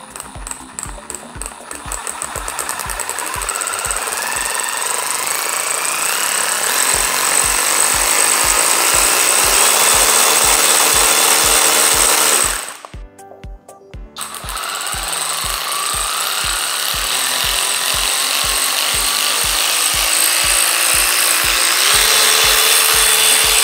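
A Parkside Performance 20 V cordless ratchet wrench with a brushless motor and a long 360° rotating head runs unloaded nearby, giving a loud, steady whir with rapid rhythmic clicking. The motor briefly stops, then starts again.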